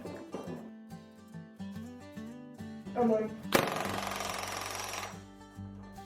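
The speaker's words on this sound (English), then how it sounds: "Dad's on one side with the rivets and the air hammer." A loud, rapid pneumatic air hammer driving rivets against a bucking bar bursts in partway through and rattles steadily for a couple of seconds, after a stretch of background music.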